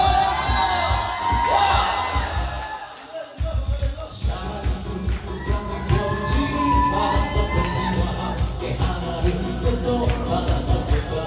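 Crowd at an outdoor fan camping event cheering, shouting and clapping with children's shrieks mixed in, a loud, dense and steady roar that dips briefly after a few seconds before swelling back with rhythmic clapping.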